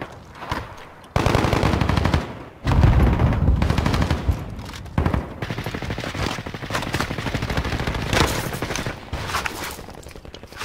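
Call of Duty Warzone Rebirth Resurgence gunfire: loud, sustained machine-gun bursts broken by short pauses, close and dominant, with little talk over it.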